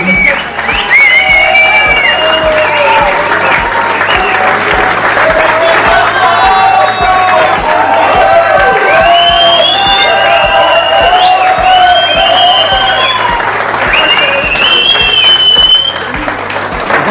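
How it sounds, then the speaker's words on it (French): Loud, sustained applause and cheering from a crowd at the closing ceremony of a poker camp event, with whoops and shouts rising over steady clapping for about sixteen seconds before it drops off. "je vous demande un tonnerre d'applaudissements"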